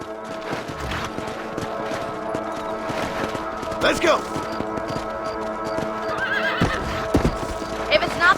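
Horses gallop in the Red Dead Redemption video game with rapid, continuous clip-clop hoofbeats, a couple of neighs and whinnies, and a busy outdoor backdrop, while a voice calls out briefly.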